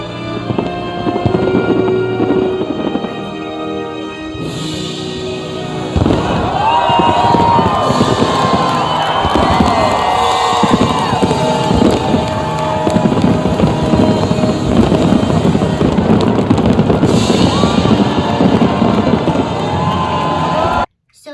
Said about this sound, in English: This fireworks show happened after Donald Trump's speech, and it was right by the Washington Monument